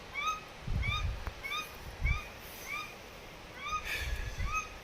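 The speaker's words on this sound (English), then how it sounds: "Those ducks might become meat if they don't shut up." Ducks on New Zealand's west coast give a run of repeated nasal quacks at a fairly even pace, heard at a moderate distance over a faint outdoor background.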